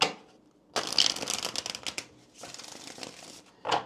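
A deck of tarot cards being shuffled by hand in close, crisp bursts of riffling and sliding, with short pauses between the shuffles and no voices.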